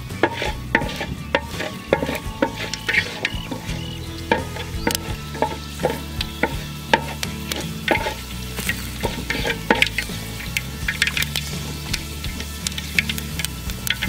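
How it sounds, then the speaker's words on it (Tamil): Fenugreek seeds tempering in hot oil while cooking a crab kulambu, a continuous close sizzle broken by frequent sharp ticks and spoon-stirring clatter, with no voices. "எண்ணெய் சூடாயிடுச்சு, வெந்தயம் போட்டு தாளிச்சுக்கலாம்."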